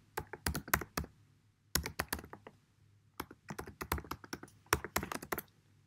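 Typing on a MacBook Pro keyboard while entering login credentials: quiet, close clusters of quick key taps in four bursts separated by short pauses, with a faint low hum underneath and no talk.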